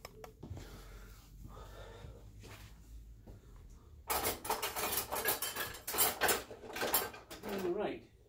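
Cutlery rattles and clinks loudly as a spoon is dug out of a drawer in a home kitchen, a dense, busy burst of metal-on-metal clatter that follows a stretch of quieter movement and low talk.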